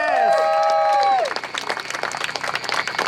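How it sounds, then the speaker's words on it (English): Crowd applause and cheering at an outdoor political rally in Fort Myers, Florida, rising after a sustained voice or tone fades, with scattered shouts over continuous clapping. "Give yourselves a round of applause."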